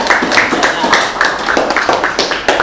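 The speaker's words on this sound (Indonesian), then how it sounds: "Tepuk tangan untuk kelompok global warming ya" A classroom group claps together for a student team in a persuasive-text lesson, producing steady, rhythmic handclaps at moderate volume with voices mixed in.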